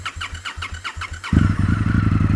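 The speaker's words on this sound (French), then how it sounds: "On sent le démarreur à la peine pour allumer ces deux gamelles de 600 cm3" An Indian FTR 1200 S motorcycle with a twin of two 600 cc cylinders is cranked by a labouring starter in rhythmic bursts, then catches and fires into a loud, deep, rough idle close by.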